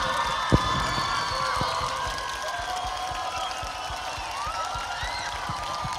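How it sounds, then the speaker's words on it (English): An outdoor audience at a school sunset carols concert cheers, whoops and claps for a choir, a steady distant crowd roar with scattered shouts and a sharp clap or two near the start. "Please can we show them some love and give them a huge round of applause."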